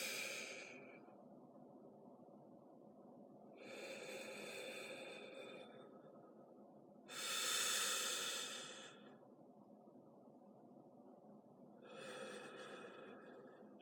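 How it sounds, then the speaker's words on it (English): Deliberate, forceful breathing in the Wim Hof method style: four long breaths, each a drawn-out airy rush, one stronger near the middle, heard close and alone over a faint steady background. "I'll breathe a little louder"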